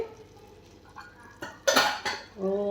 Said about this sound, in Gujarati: હવે આપણે કુકર ખોલીને જોઈ લઈએ